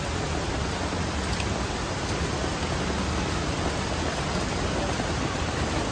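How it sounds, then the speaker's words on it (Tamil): Heavy monsoon rain pours beside a gushing waterfall near Ella's Raavana cave in Sri Lanka, a dense, unbroken roar of falling water, loud and constant with no voices. "கொட்டி தீர்க்குது மழை, நீர்வீழ்ச்சியும் சும்மா பொங்கி பிரவாகிச்சு பாயுது"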